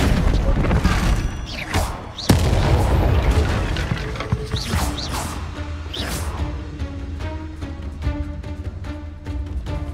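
Confringo and Bombarda spell blasts in the video game Hogwarts Legacy explode in a rapid run of loud booms, crashes and whooshes, one sharp burst standing out early, followed by lighter rattling impacts.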